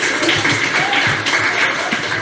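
A church congregation applauds in a dense, steady patter of hand claps that fills the whole two seconds. It is close and loud, with a faint murmur of voices underneath.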